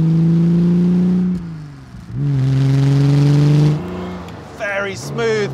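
Aston Martin DB4 GT Zagato engine revving hard, loud sustained drones that ease off and climb again, ending with fast rising rev sweeps, close and under light talk.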